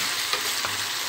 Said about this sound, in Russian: пока печень жарится